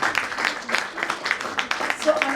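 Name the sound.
audience applause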